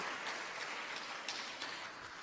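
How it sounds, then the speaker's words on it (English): An audience at a middle school parent information meeting claps together, a continuous patter of many hands at moderate volume from across the room, with no voices over it. "let's give them all another big round of applause"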